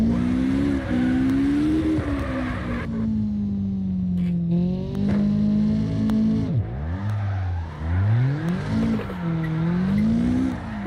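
Car drifting with heavy handbrake use in CarX Drift Racing Online: a loud, continuous engine drone that rises and falls with revs, with tire squeal and skidding layered over it and sharp pitch swoops as the car swings through corners.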